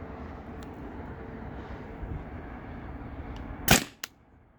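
A Tippmann TPX paintball marker with its stock barrel and a 12-gram CO2 cartridge fires one sharp, loud pop near the end. A faint low background hum comes before it, then a brief smaller click follows.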